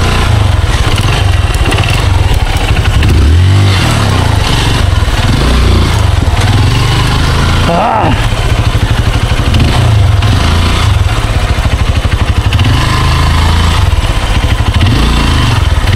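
A scooter engine runs steadily and loudly throughout, with a continuous low rumble and a few brief shifts in tone, no talking.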